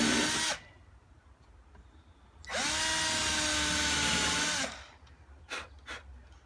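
A power drill bores into a wooden bookshelf board in two bursts, a short one at the start and a sustained two-second whine later, loud and close, with quiet handling noises between and afterward.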